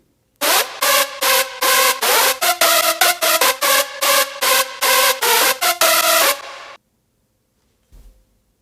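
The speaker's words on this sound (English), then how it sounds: "The first group gives the hardstyle sound to the lead." A bright, distorted hardstyle synth lead plays a rapid staccato riff, loud and punchy, then cuts off abruptly, followed by a brief low thump.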